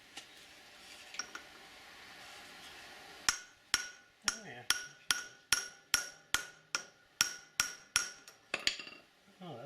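A hammer taps metal on the bearing of a Wheel Horse sickle bar mower, a run of about a dozen sharp, evenly spaced ringing strikes, close and clear, after a quiet stretch of soft shop noise.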